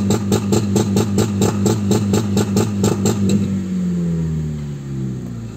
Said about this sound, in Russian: 3000 оборот беремиз энди.